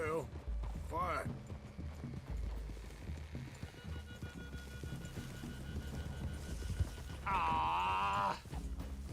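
Horse hooves clip-clop at a walking pace in the Red Dead Redemption 2 video game, a steady soft rhythm running under a music score, with a brief whinny-like tone near the end.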